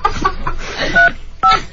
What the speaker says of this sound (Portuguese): Tem que ligar pra Maria do Cocô de novo